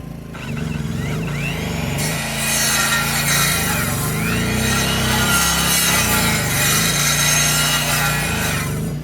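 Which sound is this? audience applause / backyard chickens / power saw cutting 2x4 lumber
power saw cutting 2x4 lumber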